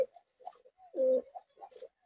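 Pigeons, a Rampuri male and a Teddy female pair, give soft throaty coos in short bursts, close and clear against a quiet background, with a few higher chirping notes between them.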